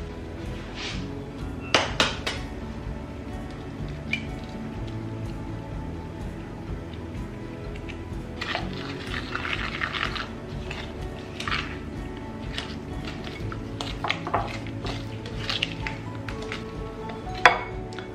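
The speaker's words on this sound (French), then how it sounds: "Là j'ai mélangé grossièrement" Cookie dough being roughly mixed in a salad bowl in a home kitchen: scattered clinks and knocks of a utensil against the bowl, soft scraping and stirring, irregular and close, with brief sharper taps.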